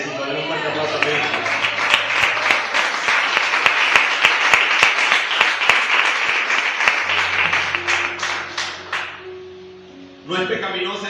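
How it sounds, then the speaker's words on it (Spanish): Loud applause from a church congregation fills the room for most of the span, with sharp rhythmic clapping and sustained cheering, a voice speaking over it before the clapping fades and talk resumes near the end. "Denle un fuerte aplauso a Cristo."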